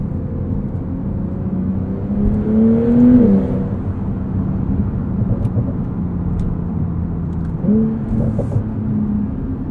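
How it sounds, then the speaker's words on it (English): A 2021 Porsche 911 Turbo S engine builds boost under acceleration, a steady low drone that rises in pitch twice, near and fairly loud from inside the cabin, with no talking. "the way this car builds boost and the drama behind it, the sound behind it, the feel of those turbos kicking in"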